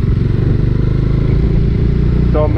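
A Bajaj Dominar 400 motorcycle engine and exhaust thrum steadily and loudly while riding on an open road, with a continuous low pulsing beat and no speech.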